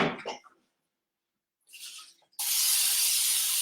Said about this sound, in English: I'm gonna go ahead and spray my pan.